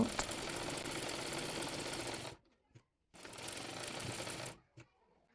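A sewing machine stitches the neckline of a kameez in two close, steady runs of rapid mechanical chatter, separated by a short pause and a faint click.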